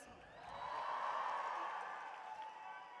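An audience cheering and shouting at a university program presentation, a broad crowd roar that swells through the middle and eases slightly toward the end, steady and fairly distant.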